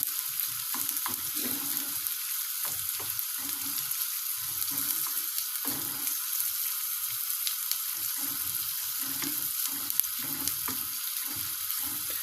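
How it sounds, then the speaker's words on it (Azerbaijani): Onions frying in a pan for a tomato and egg dish, with a steady broadband sizzle running throughout and scattered stirring clicks and scrapes, with no talk. "Və birəcə soğanımızı belə deyək, qovururuq."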